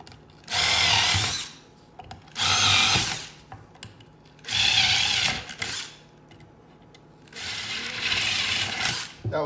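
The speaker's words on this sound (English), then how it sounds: "Again, let's do our pilot holes." Power drill boring pilot holes for a reptile cage, four separate bursts of high whirring, each about a second long, close and loud with quiet gaps between, the last one longer.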